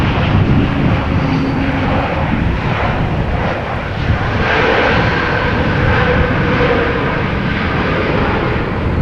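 An airliner on the apron at Amsterdam Schiphol during Storm Pia gives a heavy, continuous engine roar mixed with rushing wind. It sounds loud and fairly close, swelling slightly without a break.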